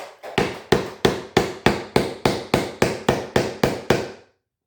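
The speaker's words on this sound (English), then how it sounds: "Or maybe I need a bigger hammer." About a dozen evenly spaced hammer blows strike a plastic part on a Little Tikes push-and-ride toy, sharp and close, each knock ringing briefly before the next.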